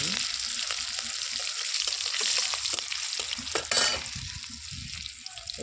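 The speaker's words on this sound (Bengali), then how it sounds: "তারপরে লঙ্কাটা যখন একটু ভাজা হবে তেল বেশি হবে" Green chilies fry in oil in a pan, giving a continuous crackling sizzle with scattered pops and the scrape of stirring throughout, close and fairly loud.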